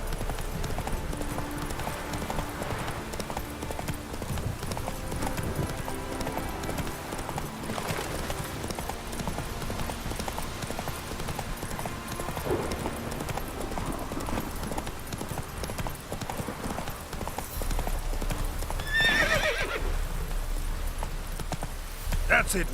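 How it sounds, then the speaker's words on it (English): Roach the horse galloping along a road in The Witcher 3 video game, a steady rapid clip-clop of hooves running continuously under game ambience, with a brief whinny-like sound near the end. "If you ride Roach on the road, if you stay on the road, you don't lose stamina."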